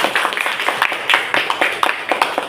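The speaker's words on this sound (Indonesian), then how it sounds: "Ya, terima kasih, tepuk tangan." Classroom applause after a student group presentation on traditional houses of West Sumatra, a steady patter of many overlapping hand claps, close and fairly loud, with no talking over it.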